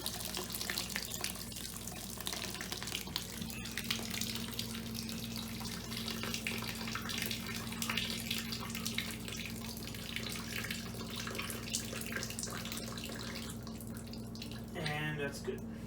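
Homebrew wort draining steadily from a kettle into a primary fermenter, a continuous close trickle and splash of liquid with a low steady hum underneath and a brief gurgling surge near the end.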